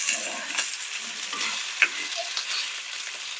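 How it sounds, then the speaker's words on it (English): Sausage fries in a pan with a dense, bright sizzle close by, broken by a few spatula scrapes and light clicks as it is moved around. "We'll fry the sausage now."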